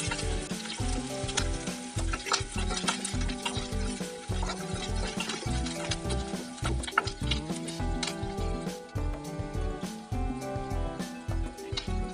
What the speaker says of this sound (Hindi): तो ऑनियन डालें और उसके साथ थोड़ा हरी मिर्ची भी ऐड कर दिए हैं और इसको अच्छा से फ्राई कर लेंगे।